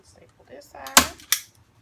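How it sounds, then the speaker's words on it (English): Staple gun firing into canvas stretched over a wooden board during a DIY wall art project, two sharp close snaps about a third of a second apart, preceded by faint handling rustle. "Staple this"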